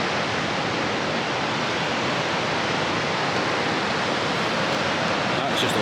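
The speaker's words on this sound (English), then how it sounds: "Even look at the water coming down, like kind of these step ideas." River water tumbles down a series of steps in Scotland, making a dense, steady rushing roar that stays even and close throughout.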